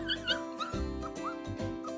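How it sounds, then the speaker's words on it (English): A puppy making small hiccup-like yips and whimpering squeaks, close and soft, over a light musical background. "Kittens and puppies get them all the time."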